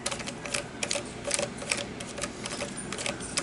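Screws being removed from a Kirby Avalir 2 vacuum, heard as a dense run of small close-up clicks and ratcheting taps from the screwdriver with no speech.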